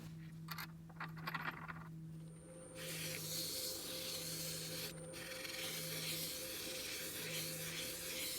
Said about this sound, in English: so we're sanding it here.